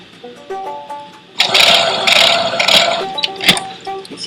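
A sewing machine stitching pieces onto a quilt block, a short close whirring run of the motor after a few quiet clicks, ending with a soft thump.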